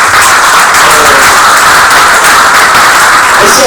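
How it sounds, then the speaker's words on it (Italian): Sustained applause from a concert audience at a choir performance, dense steady clapping that fills the whole stretch at high volume with no voices above it. "vi chiedo anche un applauso per chi saluta"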